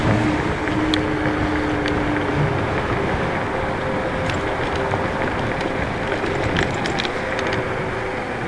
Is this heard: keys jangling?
no